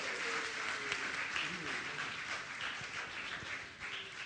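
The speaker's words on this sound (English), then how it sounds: "Can you give a round of applause for our wonderful gentleman here?" An audience applauding at a Father's Day gathering, a steady wash of clapping throughout, moderately distant and faint, with voices talking underneath.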